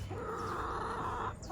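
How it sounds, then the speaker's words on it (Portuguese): A chicken on a rural farm clucks in a sustained, moderately distant call over faint background ambience, with no speech. "Ó a galinha."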